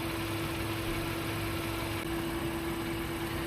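A Honda Pilot engine idles steadily with a constant low hum and a faint mechanical rumble, close and unchanging, no talk.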